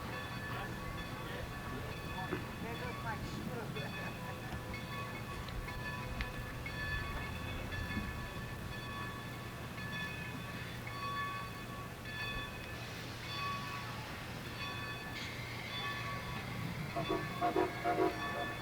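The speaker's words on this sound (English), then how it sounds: "And now the engine is separating. It's going to back up and go to the other side of the train." A steam locomotive on the Strasburg Rail Road rumbles steadily nearby as it uncouples and backs up, low and continuous, with faint metallic clanks and thin tonal squeals layered over the drone.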